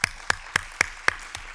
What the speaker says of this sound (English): I need an applause on this